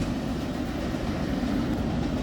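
A Norfolk Southern freight train with sticking brakes rumbles past close by, a dense, steady rolling roar with no talking.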